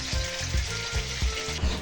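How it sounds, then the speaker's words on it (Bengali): Chili chicken pakoras fry in hot oil with a loud, close, steady sizzle, broken by rhythmic low thumps about every third of a second as the pieces are stirred, with no talk. "এবার আমার কর্তা একটু হাত লাগিয়েছে চিলি চিকেনের পকোড়া ভাজাতে"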